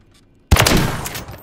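A single loud, close shotgun blast from a video game hits sharply, and its boom decays over about a second.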